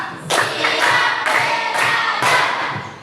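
A class of pupils claps in unison during a counting game: several crisp, reverberant group claps in a brisk, slightly uneven pattern.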